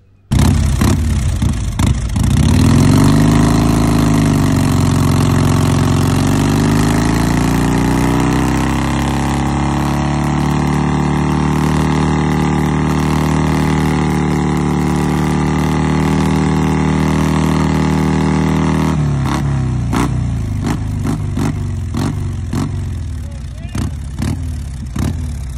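A 1980 Harley-Davidson FLT Shovelhead motorcycle engine running close by, loud and steady, with rising and falling revs early on, then a sustained throbbing idle before dropping away near the end.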